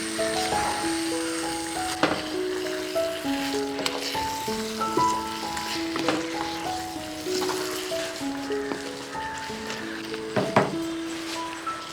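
Chicken pieces stirred and frying in a biryani masala gravy, a steady sizzle with soft wet squelches and occasional utensil knocks, moderately close, with faint background music tones throughout and no talking.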